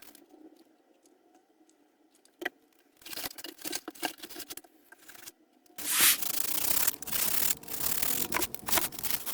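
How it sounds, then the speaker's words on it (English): A blade cuts excess foam off a homemade RC warbird fuselage, quiet scraping and clicks at first, then louder continuous rasping and rubbing strokes close by in the second half. "I'm now cutting off the excess and the fuselage is nearly done."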